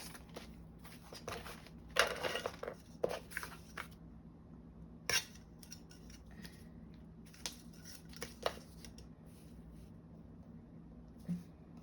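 Scissors snip through corrugated cardboard paper in a quiet room, giving a scattered series of short, crisp cuts spread irregularly across the stretch, close and fairly soft, with no talking.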